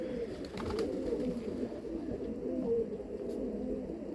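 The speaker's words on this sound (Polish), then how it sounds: "Gołębie niosą jajka, gruchają, parzą się teraz." Soft, continuous cooing from a group of pigeons, low rolling murmurs overlapping at a moderate distance, no voices.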